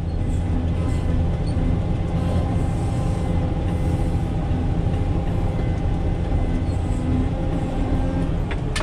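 A Caterpillar 120K motor grader's diesel engine runs steadily and loud throughout while cutting and opening a dirt road, a continuous low rumble with mechanical clatter and no talk.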